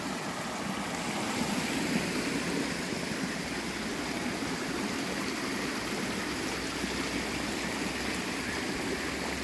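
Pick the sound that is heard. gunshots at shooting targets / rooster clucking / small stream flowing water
small stream flowing water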